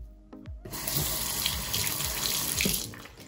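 Water from a sink tap runs steadily to wet a makeup brush, a continuous close splashing stream after a couple of brief clicks, with no one speaking.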